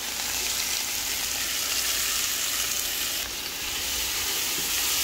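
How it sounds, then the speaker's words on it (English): Aromatics with bay leaf and thyme sauté in a hot pot for a backyard beef and pork soup, giving a loud, constant frying hiss from start to finish with no speech. "You want to mix that up nicely and get all those aromatics sauteed up."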